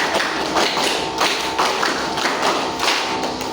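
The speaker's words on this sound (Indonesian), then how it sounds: "tepuk 5 2 kali." Sharp hand claps from a classroom clapping routine sound as a series of crisp, close taps spread evenly across the moment, with no talk.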